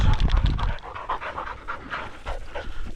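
Quail-hunting dogs pant hard and fast after a run on public land in Oklahoma, close by and loud, with quick rhythmic breaths overlapping throughout.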